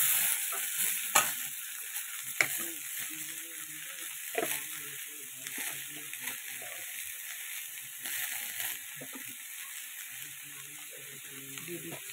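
Shrimp fry with green chilli and ash gourd in a pan: a continuous sizzle broken by repeated stirring scrapes and clatters, with a quiet voice talking faintly underneath.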